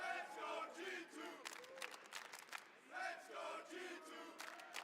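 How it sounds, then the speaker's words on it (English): Crowd at a Rainbow Six esports tournament cheering and shouting in surges, a roaring wash of many voices rising and falling under an announcer's voice. "And finally, G2 has given them something to cheer for."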